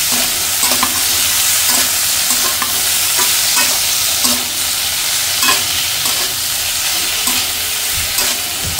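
Bitter gourd fries with spices in hot oil while being stirred: a loud, constant sizzle with regular scraping strokes of the spatula roughly every second.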